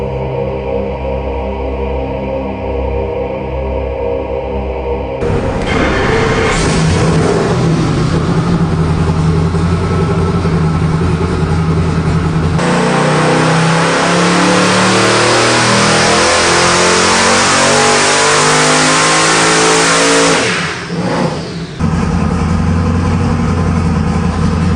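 A 1450-horsepower twin-turbo LSX small-block V8 on a dyno, loud and close: it idles roughly, then revs up and climbs hard through a sustained full-power pull before backing off.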